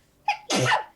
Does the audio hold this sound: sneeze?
yes